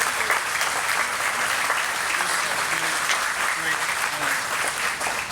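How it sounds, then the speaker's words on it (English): Sustained, dense applause from a large crowd at a public event with the Vice President and SBA Administrator in West Virginia, steady and loud throughout, with a voice faintly audible beneath the clapping. "Give her another round of applause"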